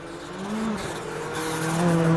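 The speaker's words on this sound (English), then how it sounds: "you hear the wheel spin there as he tentatively eases in the throttle, and the tyres don't like the paint on the road" Race car at the Nordschleife in WTCC practice, tyres spinning and losing grip on painted road as the throttle is eased in, a rising whine with squealing tones over steady engine roar, close and loud, no talk.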